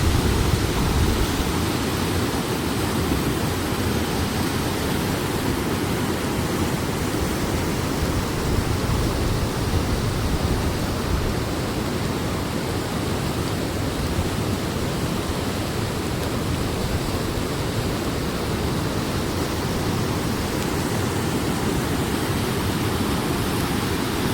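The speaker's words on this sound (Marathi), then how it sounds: "तर बघा नदीला किती पूर आलाय ते" A flooded river in monsoon spate surges over a bridge, a steady, dense, loud roar of rushing water that continues without a break throughout.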